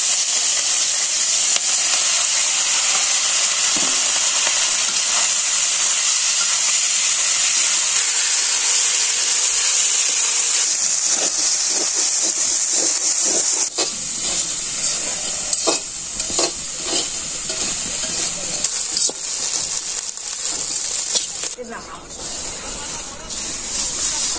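Fish frying in hot oil during simple village cooking in Bangladesh, a loud, constant hiss and sizzle close up, later joined by scraping and stirring clatter, with faint voices at times.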